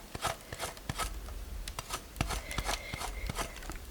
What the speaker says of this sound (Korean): 이렇게 살살 갈아 주시면 돼요.